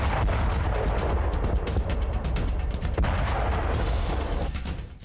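Heavy artillery cannon fire, a dense rumbling barrage of booms and sharp reports overlapping continuously, loud and close throughout.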